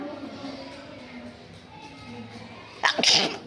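A single sharp sneeze bursts out near the end, following a quiet stretch of soft background noise.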